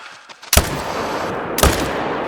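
Two loud rifle shots ring out about a second apart, each with a long decaying echo, fired at a crocodile in a hunting video game.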